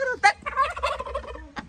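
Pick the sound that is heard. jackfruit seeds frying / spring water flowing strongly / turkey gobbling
turkey gobbling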